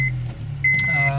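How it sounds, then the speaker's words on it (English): A manual car engine starting up, with a beeping chime over a steady idle hum that rises abruptly into a louder running drone, close by and with no talk. "So first of all, start your car"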